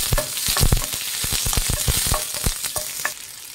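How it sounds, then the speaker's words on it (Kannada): A medium onion and garlic fry in hot oil in a pan, a close sizzle punctuated by a rapid series of sharp stirring knocks and scrapes against the pan, with no speech. "ಮೀಡಿಯಂ ಸೈಜ್ ಒಂದು ಈರುಳ್ಳಿ ಹಾಕ್ತಾಯಿದ್ದೀನಿ, 1 4 ಕೆಸಲು ಬೆಳ್ಳುಳ್ಳಿ. ಇದನ್ನು ಫ್ರೈ ಮಾಡಬೇಕಾಗತ್ತೆ."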